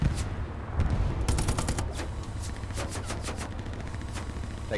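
Small arms gunfire crackles in a tank combat video game: rapid, overlapping machine-gun bursts and scattered shots at moderate distance, continuing steadily throughout with no talking.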